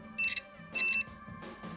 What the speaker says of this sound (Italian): Il fatto che fa sto beep significa che è in corto.